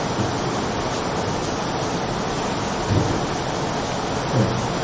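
Heavy rain pours down in a dense, steady roar, with two low rumbles of thunder swelling briefly beneath it.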